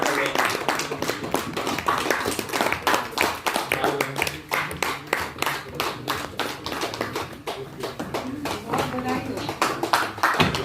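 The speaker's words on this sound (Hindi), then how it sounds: "जोरदार तालियां।" Audience clapping at a national organization meeting as office-bearers are announced, a crisp, continuous patter of many hands with some louder individual claps, with voices underneath.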